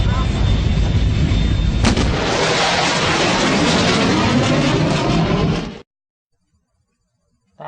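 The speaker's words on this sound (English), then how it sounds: "I've got another video of a jet with a sonic boom" A jet's sonic boom plays from a video, a loud sustained roaring blast with a sharp crack near two seconds, cutting off abruptly into silence before a brief return at the end.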